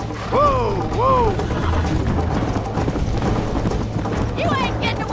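Horse hooves clip-clop steadily at a riding pace in a Western video game, accompanied by mechanical clicking and a couple of upward whinny-like tonal sweeps near the start.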